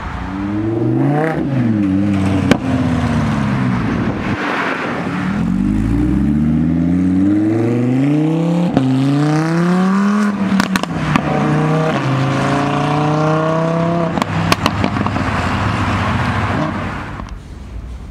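A Lamborghini Huracan Evo at a supercar dealership revs its exhaust in repeated rising and falling surges, loud and close, with no voices over it.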